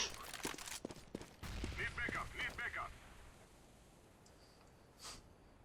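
Rapid bursts of gunfire in Counter-Strike: Global Offensive, a quick volley of sharp cracks at the start followed by a single later shot, heard alongside a commentator's voice.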